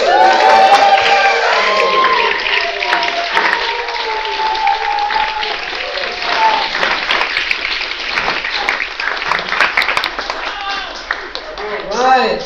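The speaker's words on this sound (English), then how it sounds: "So I want you to go ahead and make some noise and cheer each other." Graduates at a GTU commencement ceremony in 2024 clap and cheer loudly, with shouts and whoops rising over sustained applause before it gradually thins toward the end.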